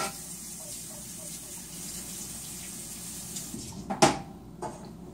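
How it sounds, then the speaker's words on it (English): A kitchen tap runs as something is rinsed at a sink while baking a cherry dump cake, a soft steady water hiss followed by a short louder splash and clatter near the end. "So let me rinse this off here."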